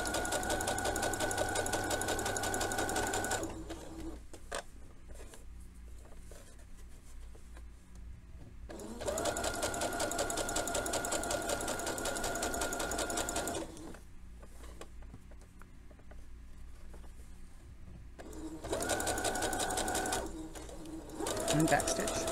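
A sewing machine stitches and backstitches a lowered crotch seam in bursts of steady whirring, with quiet pauses and talking between the runs.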